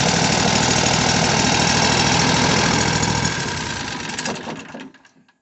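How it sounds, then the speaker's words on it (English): A Predator 22HP 670cc engine runs loud and steady with a rapid mechanical chatter, then the sound tapers off and winds down to silence near the end. "After it's been started, it usually starts right up first turn."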